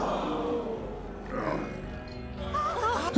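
A Bengal tiger in an animated adventure series gives out deep, rumbling roars and growls that swell and fade in waves, ending in a sharper snarl.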